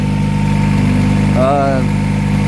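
A Honda Prelude with an aftermarket header and a cone air filter idles on a cold start, its loud, steady exhaust drone continuous throughout while a person talks briefly over it.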